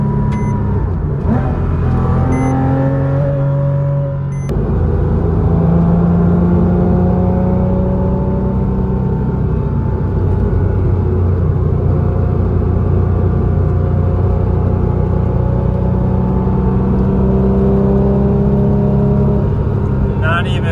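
A Porsche Cayman S 987.1 drives along back roads, its engine droning and rumbling steadily throughout with rising and falling pitch as it accelerates, loud and close, with no talk over it.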